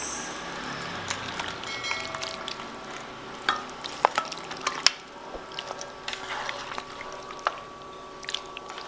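Chicken pieces being shifted and stirred in a frying pan, giving steady soft sizzling with scattered scrapes and light clinks from the utensil against the pan, close and without speech.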